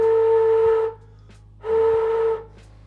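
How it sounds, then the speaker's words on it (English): A homemade pipe whistle with a hole made by an angled drill bit sounds two clear, steady, sustained notes of the same pitch, each lasting just under a second, separated by a brief pause with a faint breathy hiss. "That's a good whistle note with very, very little work."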